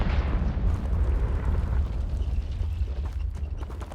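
A Confringo fire spell explodes in Hogwarts Legacy, a loud continuous roaring blast with deep rumble that slowly fades over a few seconds.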